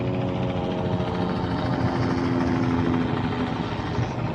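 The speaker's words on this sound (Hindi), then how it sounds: "हेलीकॉप्टर्स भी है।" A helicopter flies over a waterfront, its steady rotor thrum and engine drone continuous and fairly loud with no talking.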